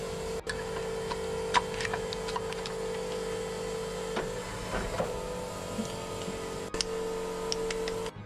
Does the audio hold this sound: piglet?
no